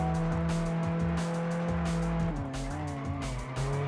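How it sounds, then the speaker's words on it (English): Tires squeal in a sustained, loud screech as a car drifts in Test Drive Unlimited on PS2, with the engine droning beneath and pitch shifting partway through as the slide changes. "got a drift going on there"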